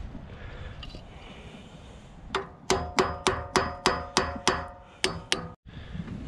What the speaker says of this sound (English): this cup just goes over here like this and gets tapped on with the hammer